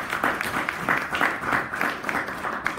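Guests at the 2017 Big Ben HBCU Football Award ceremony give a round of applause, a steady wash of clapping with a pulsing, rhythmic quality, heard alone.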